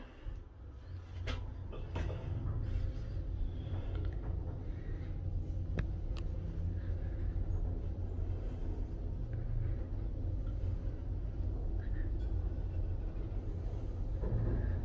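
Concept lift car at Zetland, Middlesbrough travelling upward, a continuous low rumble and motor hum with a few faint clicks and ticks, steady and close throughout.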